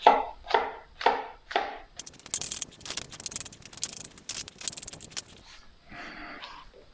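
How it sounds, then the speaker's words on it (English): A knife chops mushrooms on a board: four separate strokes, then a quick run of rapid, close cuts with a few softer knocks at the end. "we just need to chop up some mushroom"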